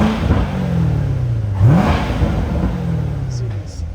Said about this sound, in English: we'll give it a couple revs for you guys